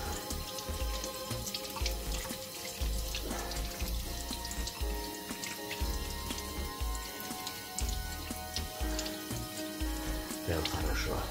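Tap water runs into a sink while an apple is washed under it, a steady splashing stream with small drips and hand movements, fairly quiet and unbroken throughout.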